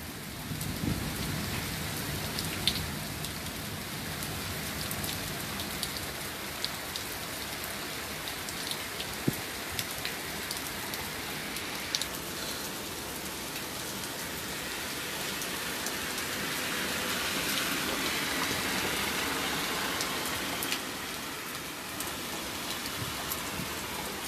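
Heavy rain pours in a dense, unbroken hiss with scattered sharper drop hits, steady and close throughout, with no voices.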